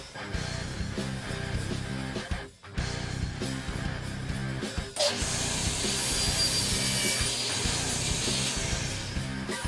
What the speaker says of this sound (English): I went to the table saw and squared up the first end and then cut the project to length using